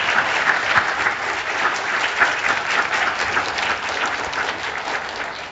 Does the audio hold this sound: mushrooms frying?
no